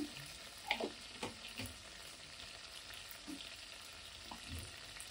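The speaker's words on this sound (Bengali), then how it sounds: "এবার আমি ওই তেলে দিয়ে দেবো একটু 5 ফোড়ন।" Panch phoron spices fry in hot oil that was just used for frying prawns, giving a faint, steady crackle and sizzle with a few soft pops and stirring scrapes, and no talking.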